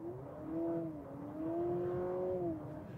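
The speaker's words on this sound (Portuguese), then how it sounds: "E você tem a sensação de que o carro está fazendo um barulho realmente, de que o motor está acelerando." New Honda Civic producing a simulated engine sound inside the cabin, a smooth steady drone that climbs, dips at a gear change and climbs again, fairly quiet with no talk.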